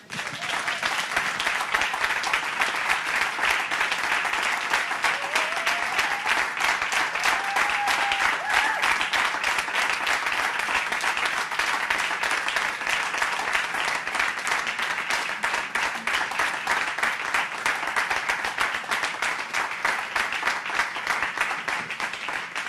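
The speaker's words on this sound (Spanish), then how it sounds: "yo quiero sacar un buen aplauso" A church congregation applauds steadily, a dense and even wash of many hands clapping together that holds for the whole stretch at moderate loudness.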